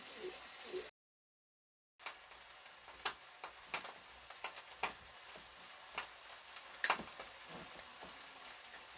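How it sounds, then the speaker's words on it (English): A beef roast sears in a hot pan, giving a steady quiet sizzle broken by scattered crackles and pops, with no talking. "Gonna do a quick sear on that."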